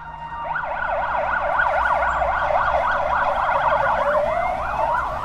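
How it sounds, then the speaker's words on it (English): An ambulance siren wails loud and close, its rapid rising and falling yelp cycling steadily over several seconds with faint road rumble beneath, then shifting pitch toward the end as it passes. "Even by ambulance, with sirens blaring, that's a long journey"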